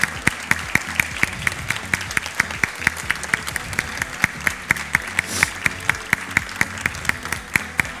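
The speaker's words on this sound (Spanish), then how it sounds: "Un fuerte aplauso para Mati." Audience applause at a preschool graduation ceremony, a steady dense patter of many hands clapping throughout at even loudness, with no voices on top.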